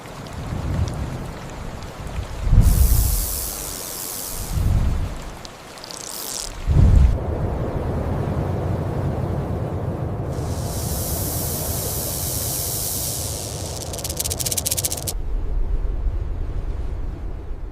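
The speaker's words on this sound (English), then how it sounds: "A gigantic sandstorm suddenly appears on the horizon." A desert sandstorm roars with loud, sustained wind that surges in heavy gusts, broad and rushing throughout with no voices.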